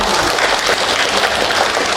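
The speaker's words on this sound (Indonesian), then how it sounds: "Tepuk tangan untuk kita." A dense burst of audience clapping fills two seconds at a ceremony marking the Islamic New Year and a digital library launch, loud and continuous with many hands.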